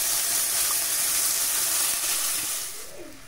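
Water poured into spice paste frying in a pan for Bengali egg curry, a steady broad hiss and sizzle filling the clip and easing off near the end, close and loud with no talking.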